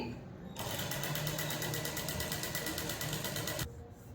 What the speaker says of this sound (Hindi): अब देखिए मैंने मशीन को सिंगल फुट लगाया हुआ है और उसके बराबर ये जो स्लॉट दिख रहा है वही मैं सिलाई मारूंगी